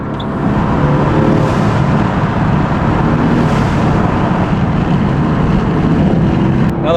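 Fast car driving through a tunnel, a loud, steady engine and road roar filling the enclosed space throughout, with no talking.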